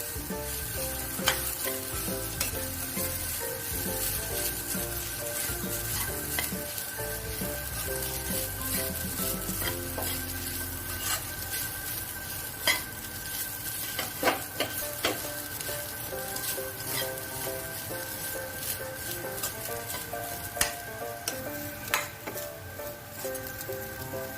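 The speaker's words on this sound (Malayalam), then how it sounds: "ഇനി അതിലേക്ക് നമുക്ക് റൈസ് ചേർത്ത് കൊടുക്കാം. ഇതിന് നല്ലപോലെ മിക്സ് ചെയ്യുക." Rice being stirred into a frying pan for tricolour rice gives a continuous sizzle, with repeated scraping and clinking of a spoon against the pan throughout.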